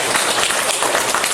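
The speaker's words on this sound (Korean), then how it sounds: "하나님께 감사의 박수로 영광 돌리겠습니다" A church congregation at a Sunday worship service applauding, a dense, steady wash of many hands clapping together filling the room, loud and sustained throughout.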